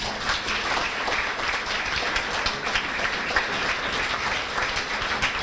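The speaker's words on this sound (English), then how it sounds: "give all these boys a round of applause, please" A banquet crowd at Ste. Genevieve High School's winter sports banquet gives the wrestling boys a round of applause, a dense, even wash of clapping throughout.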